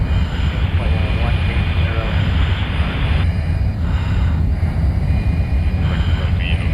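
An F-35 jet in Microsoft Flight Simulator makes a steady, loud engine roar as it passes low down the runway, continuous throughout with a voice talking over it.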